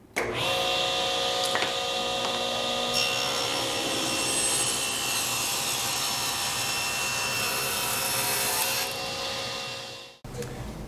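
A table saw with a Freud Diablo 40-tooth blade rips a board of maple, a loud sustained whine and rasp lasting about ten seconds before the cut ends and the blade spins down.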